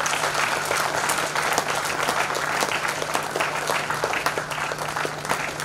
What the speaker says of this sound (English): So let's give a big applause to the organizers.